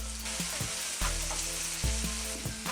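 Tomato and garlic frying in a pan, with steady loud sizzling and sharp stirring scrapes at intervals.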